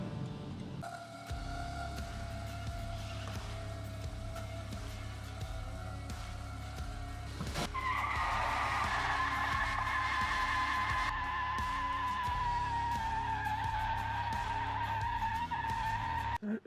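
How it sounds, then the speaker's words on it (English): Jeep Comanche spinning a single rear tire in a one-wheel burnout, engine droning as the squeal rises sharply midway and holds loud and steady to the end. "One tire fires. Of course it'll do a burnout with that."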